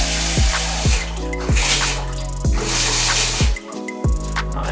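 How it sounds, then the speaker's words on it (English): Water from a newly connected shower tap mixing hot and cold runs in a steady, loud rush, broken by several sharp low thumps at regular intervals. "with this tap connected up, now the shower can run because we have the hot and the cold"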